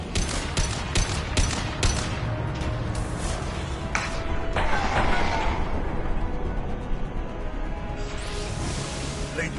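Rapid bursts of gunfire and explosive impacts from the video game Mass Effect Legendary Edition, a dense, continuous battle with sharp repeated shots and booms throughout, with voices shouting over the fighting.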